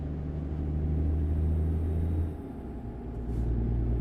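A low diesel truck engine, a Cummins in American Truck Simulator, rumbling steadily, the drone dipping briefly as the revs drop, then building again.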